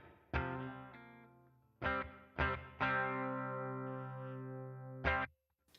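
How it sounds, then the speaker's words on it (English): Distorted electric guitar chords played through an Atomic Ampli-Firebox amp channel with a little reverb, several sharp strums and one long sustained chord ringing out, close and alone. "As you can see, there's a little bit of reverb, even though this knob is turned off."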